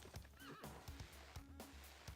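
A horse in the Civilization VI video game whinnies loudly, with rapid clip-clop hoofbeats repeating underneath in a quick rhythm, close and alone without speech.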